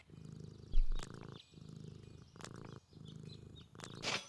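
A cartoon cat purrs in the adventure game Deponia, slow rumbling rhythmic pulses repeating about once a second, fairly quiet, with light game sounds around it and no talking.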